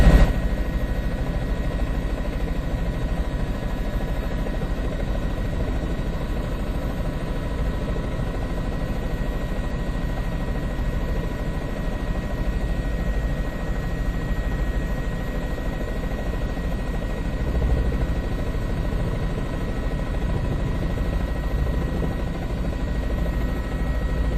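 A news helicopter flies overhead with a steady, droning rotor and engine thrum that holds at an even, fairly loud level throughout, with no talk over it.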